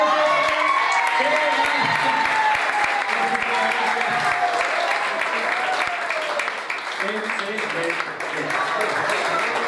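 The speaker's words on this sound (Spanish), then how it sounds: "un aplauso fuerte" A live audience at a comedy show breaks into loud, sustained applause with some cheering, filling the room for several seconds while a voice carries faintly underneath.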